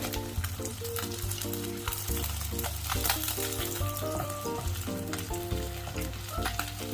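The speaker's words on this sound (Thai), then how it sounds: "พอน้ำมันเริ่มร้อนก็นำปลาสลิดลงไปทอดได้เลย" Snakeskin gourami deep-frying in hot oil gives a dense, continuous crackling sizzle, heard up close, while steady instrumental music with a regular beat plays throughout.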